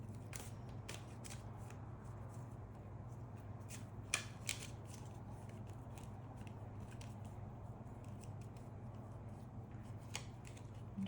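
Tarot cards shuffled by hand, a run of soft crisp riffles and flicks repeating over a steady low background hum, fairly faint and close, with no talking.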